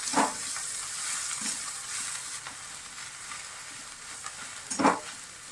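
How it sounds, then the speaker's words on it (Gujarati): Chopped taro leaves with salt being stirred in a pan, a soft steady sizzle under scraping spatula strokes, with two sharper stirring clatters near the start and end. "ત્યારબાદ આપણે એને સરસ મિક્સ કરી દઈશું"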